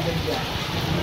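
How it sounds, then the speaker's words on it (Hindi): Heavy rain pours down in Delhi outside a gym, a dense, steady hiss of downpour close by with a faint murmur underneath. "कितनी तेज बारिश हो रही है"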